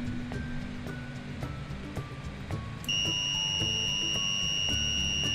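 A steady electronic tone from an Arduino-driven buzzer set to a 5-millisecond delay starts partway through and holds at a high pitch, over a background of clicks and ticking noise.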